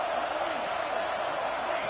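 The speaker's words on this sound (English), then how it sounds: "this crowd is fired up. Listen to this noise here." Stadium crowd in a college football video game, Michigan versus TCU, a steady loud roar of cheering filling the whole stretch without breaks.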